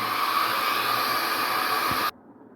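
A hair dryer blows steadily on a wet watercolor sunset landscape painting, a loud continuous whooshing hiss that stays even for about two seconds and then cuts off abruptly, leaving near silence.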